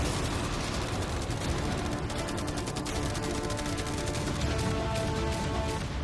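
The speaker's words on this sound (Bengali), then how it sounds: "অনেক ফায়ারওয়ার্কস, অ্যারো এবং ক্যাটারপুলস, এই সব একসাথে তোমার ইয়টের দিকে এখন ছোড়া হবে" A massed barrage of fireworks, arrows and catapult shots pounds a yacht in a video game, a dense, continuous roar of rapid blasts and crackling impacts with no pause.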